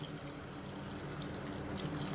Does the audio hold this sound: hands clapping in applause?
no